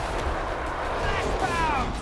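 Heavy .50 cal gun in Killing Floor 2 booming in a steady, loud low rumble with a distant ringing whine near the end, under background game noise.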